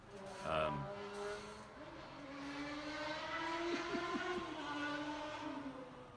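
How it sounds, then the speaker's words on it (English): Japanese motorcycle engines drone and rise in pitch as they pass by outside at a distance, a steady buzzing whine that swells and fades, heard alone with no speech. "I just hear these buzzing Japanese motorcycles going by"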